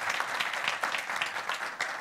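Church congregation applauding during a Spanish-language sermon, a steady dense clapping throughout with no speech over it.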